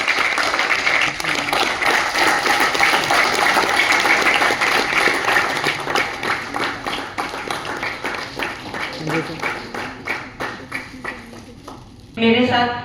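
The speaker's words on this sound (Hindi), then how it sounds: "जोरदार तालियां बजती रहेंगी" Loud applause from an audience at a business community celebration event, dense and sustained for most of the clip, thinning into scattered claps before a final burst of clapping at the end.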